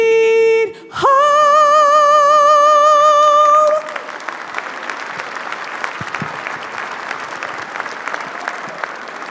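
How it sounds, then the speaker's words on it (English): Audience applause at a county swearing-in ceremony for elected officials, a loud, steady wash of clapping that runs for several seconds after a held sung note ends abruptly. "Another round of applause, please, for Karen and for Michelle."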